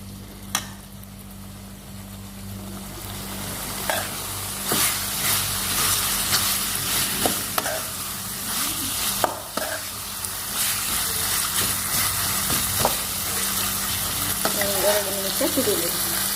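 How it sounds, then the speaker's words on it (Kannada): Chicken suka (chicken curry) bubbling and sizzling in a pan while it is stirred, a steady frying hiss with scattered spoon scrapes throughout, close and fairly loud, with no talking. "ಇದು ಹಿಂಗೆ ಹಾಕಿ 2 ನಿಮಿಷ ಕುದಿಲಿರಿ."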